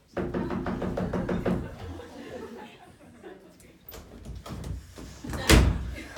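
A door slams loudly near the end of a short stage-comedy scene from a Christmas Carol parody, preceded by rustling, bumping and brief laughter from people nearby.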